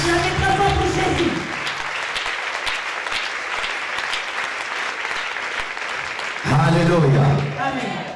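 Church congregation applauding loudly, with steady clapping and crowd noise running throughout, and singing or shouted voices rising over it at the start and again near the end.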